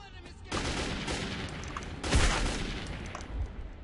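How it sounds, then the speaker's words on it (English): Gunfire from a weapon in the video game Metro 2033 roars as dense, continuous bursts, loud and close, with a heavier blast partway through. "I've got a weapon that doesn't fire like shit now. One shot, one kill."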